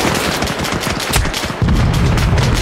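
Rapid bursts of automatic gunfire in the video game Arma Reforger crackle loudly and continuously, close and dense, with heavy rumbling impacts toward the end.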